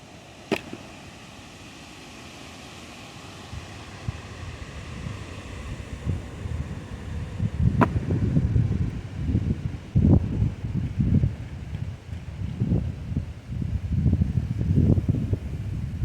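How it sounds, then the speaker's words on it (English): Strong wind buffets the microphone outdoors on a homestead, building from a steady rumble into heavy, gusting low roars with a couple of sharp clicks early on. "Can we say it's very windy today?"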